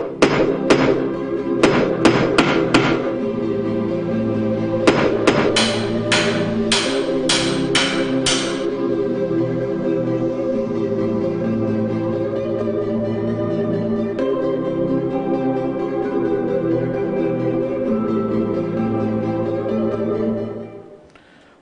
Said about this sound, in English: they are using the hammer to change the shape of the iron metal